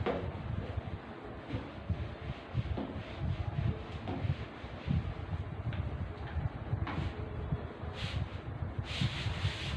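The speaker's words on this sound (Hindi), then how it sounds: "मैं इसको इरेज कर रहा हूं" Steady scratchy rubbing of an eraser on written lettering, a continuous rough friction with small bursts of strokes, close and fairly quiet with no talking over it.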